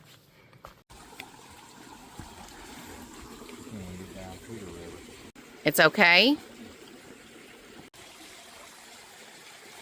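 Small woodland creek on a mountain trail trickling and babbling softly, a gentle continuous water sound in the background, with a brief voice and some footsteps or handling noise over it.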